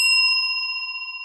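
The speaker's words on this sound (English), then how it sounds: "That's how a bell should sound." An old bell is struck once, its bright, pure metallic ring sustaining clearly and slowly fading, with no talking.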